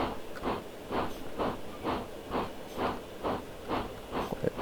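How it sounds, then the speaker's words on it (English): A steam locomotive, an RGS 4-6-0 in Train Simulator Classic, chuffing in a steady, evenly spaced rhythm of about ten hissing exhaust beats, with a faint rail background and no talk. "normally you get 4 chuffs per rotation"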